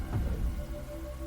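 Heavy rain pouring down in a steady, dense hiss, with a brief louder low rumble near the start before settling into constant rainfall.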